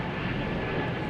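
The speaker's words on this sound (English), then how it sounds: "We got a JetBlue here heading to Richmond." A JetBlue Airbus A220 departing Boston Logan for Richmond, heard as a brief, moderately faint, broadband engine roar that stays steady with no voices.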